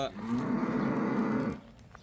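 Cattle on a Thai farm give a single long, loud, close moo that holds steady for over a second before fading into quiet.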